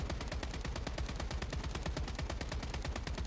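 Assault rifle in the BloodStrike video game firing full-auto, a rapid, even stream of close, loud gunshots rattling without pause for the whole stretch, no voices over it.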